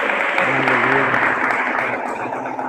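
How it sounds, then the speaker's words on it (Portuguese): A congregation at a Lagoinha São Leopoldo communion service applauds in a steady, full wash of clapping, with sustained tones and a voice faintly underneath. "Aplaudir Jesus"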